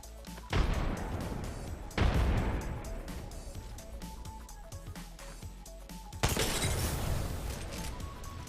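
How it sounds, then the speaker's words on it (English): Frag grenades exploding in the Apex Legends battle royale game, several loud booming blasts with long rumbling tails amid a sustained firefight, heard close without speech. "Look out! Grenade! Frag out!"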